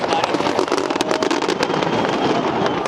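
New Year's Eve fireworks burst over Melbourne in a dense, loud barrage of rapid crackling bangs with crowd noise mixed in and a voice talking over them.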